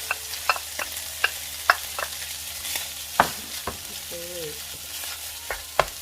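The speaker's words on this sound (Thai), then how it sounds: "ใส่ลงไปผัดเลยนะคะ" Cooked rice is stir-fried with naem, Thai fermented pork, in a hot pan: scattered scraping and clacking strikes of a utensil over a steady low sizzle, close and moderately loud, with no talking.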